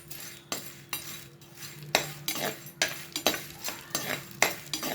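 Dried prawns roasting in a hot clay pan, with a steady series of scraping, clinking stirs repeating every half second or so against a low background hum; no voices.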